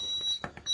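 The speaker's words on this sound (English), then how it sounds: "Oh, bike alarm's going off." Motorcycle alarm on a Honda CRF250 Rally in a home workshop, heard as a steady high electronic tone that cuts out briefly and then resumes, with soft knocks in between.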